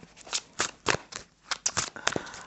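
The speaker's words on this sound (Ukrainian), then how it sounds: "Карти трошки більші, так незручно їх тасувати" Large playing cards being shuffled, with soft, quick riffling bursts in an irregular rhythm, close and fairly quiet.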